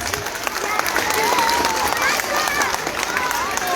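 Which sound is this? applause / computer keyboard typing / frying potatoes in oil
applause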